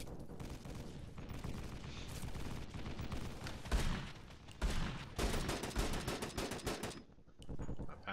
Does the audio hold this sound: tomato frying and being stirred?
no